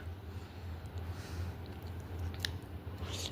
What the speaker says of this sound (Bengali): আবার একটা কলা খাচ্ছে